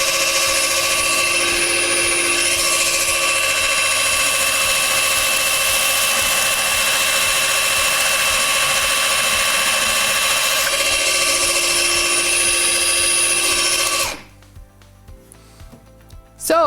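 A cordless 18-volt TP-BS 18/457 Li BL belt sander running: a loud, steady motor whine with a grinding belt hum, sustained for about fourteen seconds before cutting off and spinning down.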